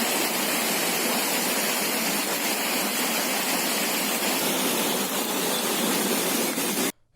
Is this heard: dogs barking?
no